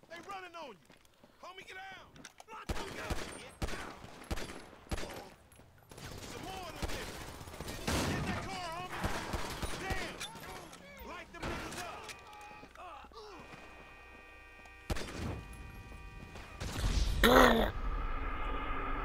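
Gunfire rattles through a back-alley shootout in Grand Theft Auto V, with repeated sharp shots and bursts scattered across the scene. A voice talks over the action, and a heavier burst of gunfire hits near the end.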